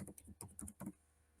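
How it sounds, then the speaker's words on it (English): Keys on a computer keyboard, Enter and Tab, are tapped several times in a quick uneven run of close, soft clicks while building an organization chart in Microsoft Word, then stop. "enter and tab on your keyboard"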